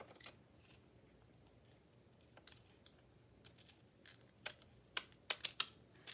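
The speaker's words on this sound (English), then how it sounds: "I'm cutting them on this paper so that then I can just take the whole paper with the trimmings on it" Scissors cut paper trimmings, faint at first and then a run of sharp, crisp snips clustering near the end against a quiet room.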